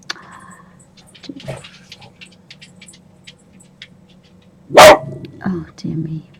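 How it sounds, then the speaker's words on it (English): A single loud, sharp dog bark close by, followed by a couple of softer grunting yips, over quiet background noise. "he's barking at thin air now"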